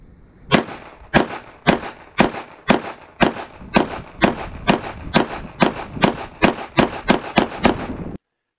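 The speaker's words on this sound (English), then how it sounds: "But shot all 34 rounds out of both mags." Taurus G3 Tactical pistol firing 124-grain reloads from two magazines, a loud, evenly paced string of about sixteen sharp gunshots at close range, each with a short echoing tail, no speech.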